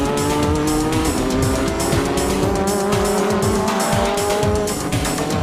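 JGTC GT300 race cars, a Honda NSX and a Mazda RX-7, battle on track with loud, continuous high-revving engines, shifting pitch and squealing tyres as they jostle for the inside line.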